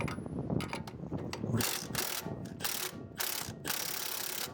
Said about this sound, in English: Let me break this loose and then we'll see if the nut will come off.